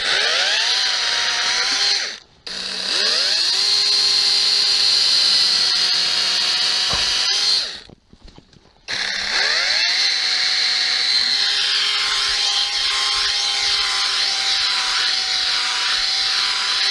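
A motorized saw cuts branches out of a cherry tree during pruning, running loud and steady. It bogs down briefly twice as it bites through wood, then resumes a high, buzzing whine.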